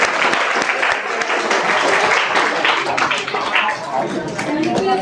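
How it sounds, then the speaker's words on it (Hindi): Sustained applause from a large crowd welcoming a speaker onstage at a motivational talk, dense and continuous clapping throughout with some voices mixed in. "ताली बजती रहनी चाहिए।"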